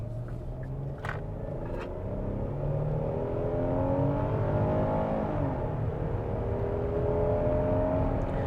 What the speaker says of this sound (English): it just feels like this engine has to rev a lot and do a lot when you're just normally accelerating.